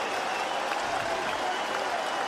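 A baseball stadium crowd of more than 17,000 cheers and applauds in a broad, sustained roar, with a commentator's voice running over it.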